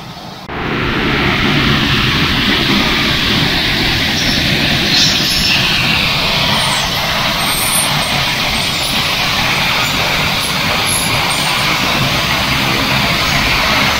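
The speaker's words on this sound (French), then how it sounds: "il lance les moteurs. Donc là, il est dans la phase de lancement moteur." Engines of a Tracker water bomber aircraft starting up, a loud sustained roar and rumble that builds in the first second and then holds steady and dense throughout.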